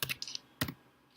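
A few quick clustered clicks of typing on a computer keyboard sound close and faint in a quiet room, a short burst, a brief pause, then another keystroke.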